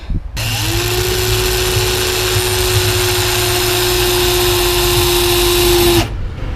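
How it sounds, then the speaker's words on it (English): A power drill drilling up through holes into wood runs continuously for about six seconds, its motor whine holding steady at close range before it cuts off sharply. "I need to now come from underneath and drill through the holes I've made into the wood"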